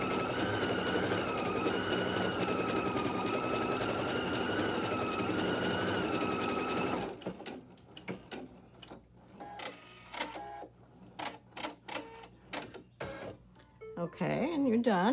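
An embroidery machine stitching a clover design hums with a steady tonal drone, then shifts to irregular clicks and mechanical chatter, heard close with a person speaking over it.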